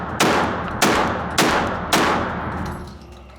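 A MAC 1014 semi-automatic 12 gauge shotgun fires four loud, close shots at an even pace about half a second apart, each blast followed by a decaying echo.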